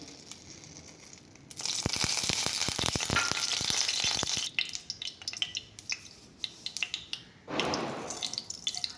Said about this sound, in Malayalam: അതിലേക്ക് ഞാൻ നെയ്യും സൺഫ്ലവർ ഓയിലും കൂടി മിക്സ് ചെയ്തിട്ടാണ് ഒഴിക്കുന്നത്